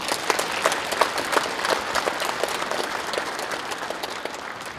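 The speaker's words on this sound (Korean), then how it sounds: "여러분 박수 한번 보내주십시오" A crowd in a gymnasium at a political rally applauds. Crisp individual claps stand out over a steady wash of hands, clear and sustained throughout without talk.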